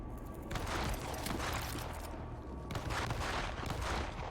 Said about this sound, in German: das tönt nach Schrotflinte